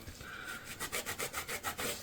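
A microfiber cloth rubs laser-engraving residue off a coaster in quick back-and-forth strokes, a rhythmic soft scrubbing swish repeating about twice a second, close and fairly quiet.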